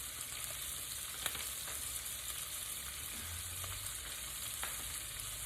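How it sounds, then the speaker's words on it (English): Shrimp frying in a pan on the stove, a steady low crackling sizzle with a few sharper pops, close by and quiet, with no voices. "Okay, these shrimp are ready to be flipped."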